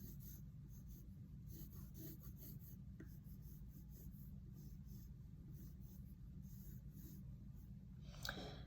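Pencil sketching a tree on paper for an impressionist landscape, with soft, faint rhythmic scratching strokes continuing steadily against a low room hum.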